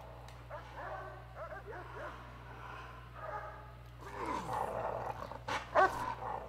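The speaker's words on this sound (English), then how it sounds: "I hear a dog barking." A dog barks and yips in short bursts, then growls and whimpers more loudly near the end, over a low steady hum, in the video game Prison Architect.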